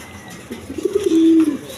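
A hen pigeon, a red-and-white racing bird, gives a short cooing call, a few rising throaty pulses ending in a sustained coo, close and clear.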